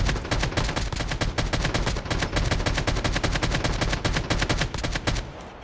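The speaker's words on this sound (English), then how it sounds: "most possibly i hear shots damn a whole team" Automatic gunfire in the mobile battle royale game Call of Duty Mobile rattles in a dense, continuous burst of rapid shots for about five seconds, loud and unbroken before cutting off.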